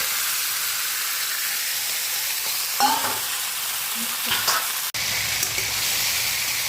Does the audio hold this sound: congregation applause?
no